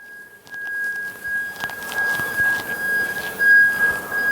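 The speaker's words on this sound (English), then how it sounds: "Apologies for that beeping outside, somebody appears to be having a noisy delivery." A steady high-pitched electronic beeping tone from a delivery vehicle repeats outside, fairly faint and continuous over background room noise with scattered clicks.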